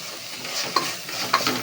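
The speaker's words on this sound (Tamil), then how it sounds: "கிண்டி விட்டுக்கலாம் நல்லா" Chicken biryani is stirred in a pot, with a couple of quick scraping strokes of a spoon over a gentle background sizzle, brief and close.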